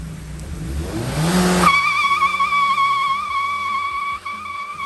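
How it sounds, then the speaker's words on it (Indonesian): The front wheels of a front-wheel-drive 1200 cc car spin on an uphill slope. The engine revs hard and its pitch climbs, then settles into a sustained, whining tire squeal that stays close and loud with no talking. "Traksinya lepas, muter doang bannya, tapi mobil nggak maju."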